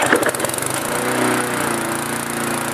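The repaired starter pull cord on a Briggs & Stratton 3.5 Classic lawnmower is pulled, producing a rapid rattling whir from the recoil mechanism that settles into a steady mechanical drone.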